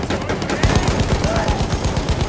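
Rapid machine gun fire in the Battlefield 1 video game, a steady rattling stream of shots over dense battlefield noise with a voice faintly in the mix.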